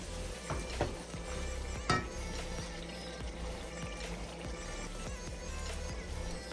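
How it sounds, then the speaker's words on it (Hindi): Chicken pieces frying with masala in a pan, making a steady, close sizzle with occasional sharp pops and spatters throughout. "अभी मैं चिकन को भून रही हूँ"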